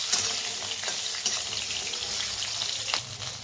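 Roasted eggplant being sautéed and stirred in oil over a high gas flame for a rustic village-style bharit gives a steady close sizzle, with scattered scraping clicks from the stirring.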